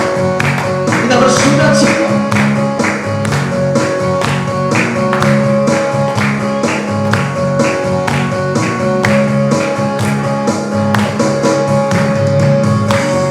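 A church congregation claps in rhythm during Good Friday worship, steady hand claps ringing out under singing and musical accompaniment, with a sustained organ-like tone throughout.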